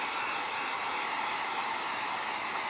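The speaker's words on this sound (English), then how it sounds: "I think I'm going to just barely dry this for just a second." A hair dryer blows over wet paint on a palette knife painting, a steady close-up roar of airflow that holds constant without any break.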